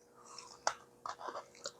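Crunchy freeze-dried beets chewed close up, a few sharp crisp bites followed by softer crunching in quick uneven bursts, with no talking.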